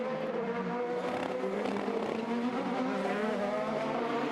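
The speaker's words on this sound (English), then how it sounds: "Contact. Harvey spun by Grosjean" A race car at the 2021 Detroit Grand Prix spins after contact, its engine roaring in a sustained, loud drone with shifting pitch and tyre noise, heard alone without voices.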